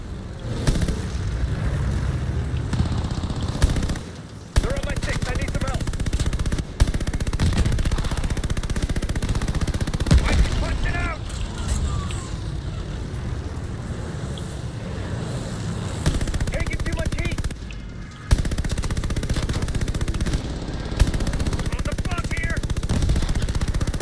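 Rapid bursts of automatic gunfire and explosions in Call of Duty: Vanguard's Battle of Midway rattle almost continuously, with a few brief gaps and voices talking over the din.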